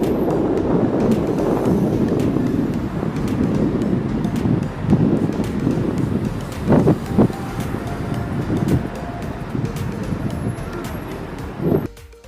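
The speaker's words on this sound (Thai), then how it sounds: "บรรยากาศตอนเช้าที่นี่ ลมแรงค่ะ เพื่อนๆ ได้ยินเสียงลมไหมคะ" Strong morning wind blustering across the microphone outdoors in a Taiwanese city district, a loud continuous roar with gusts rising and falling throughout.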